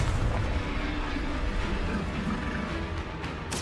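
In Hogwarts Legacy, the Confringo explosive spell goes off in a loud, rumbling blast that sustains as a dense, booming roar, ending with a sharp burst.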